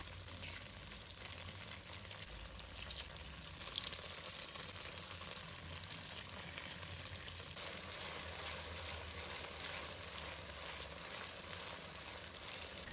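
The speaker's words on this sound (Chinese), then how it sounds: "把豆腐煎至2面金黄焦就可以了" Tofu pieces fry in a pan until golden on both sides, producing a quiet, steady sizzle with light crackles that runs continuously for the whole stretch, with no voices.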